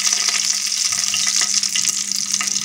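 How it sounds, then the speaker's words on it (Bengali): Whole garam masala spices, including bay leaves, dried red chillies, cardamom, cinnamon, cloves and peppercorns, sizzle in hot oil for a cauliflower korma, a steady close crackling hiss that continues without talk. "আমার তেল গরম হয়ে গেছে, আমি এতে গোটা গরম মশলাগুলো ফোড়ন হিসাবে দিয়ে দেব,"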